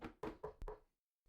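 Four quick, firm knocks on a door, evenly spaced and close, then a pause and a fainter fifth tap.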